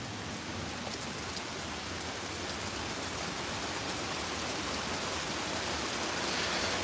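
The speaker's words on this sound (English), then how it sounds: "Now it's just a very steady, heavy rain." Steady, heavy rain pours during a New York City thunderstorm, a dense, even hiss that holds constant and close throughout with no distinct drops or thunder.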